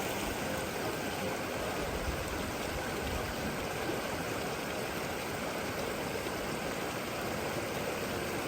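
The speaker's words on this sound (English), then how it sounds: "we found a creek that we've got to cross to get there" A creek on the trail to Ribbon Falls in the Grand Canyon rushes steadily and loudly close by, a dense, unbroken wash of flowing water with no voices.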